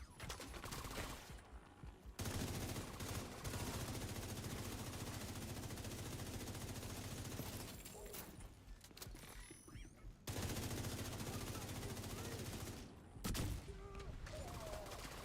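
Sustained bursts of automatic fire from assault rifles in a shooter game, the rapid shots running loud and steady for long stretches with a few brief pauses.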